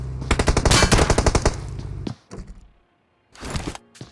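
Rapid automatic gunshots in a competitive battle royale video game match, a loud close volley of fast cracks followed by a short pause and another brief burst.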